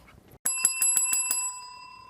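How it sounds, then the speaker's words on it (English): A bell rings out in a quick run of about six evenly spaced, bright metallic dings, like a bicycle bell, then its tone fades away cleanly in an otherwise quiet room. "you just heard the Cyncity bell signaling the end of our Cyncity Citizens meeting"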